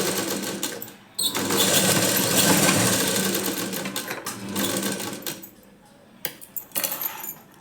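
A sewing machine stitching a blouse runs in one loud, close continuous whir for about four seconds, then stops, followed by a few small clicks and metallic taps of handling.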